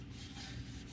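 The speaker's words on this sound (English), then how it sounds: "I'm taking a little damp cloth and I'm wiping down this little plate, this little shield plate behind it" A damp cloth rubbing over the brake shield plate behind the rotor of a 2011-2013 Toyota Corolla front brake, giving a brief, steady close-up scrubbing rasp with no talk.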